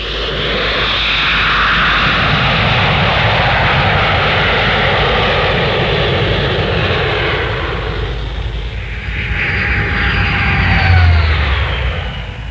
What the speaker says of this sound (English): And that was the Argosy, turboprop transport and freighter now in service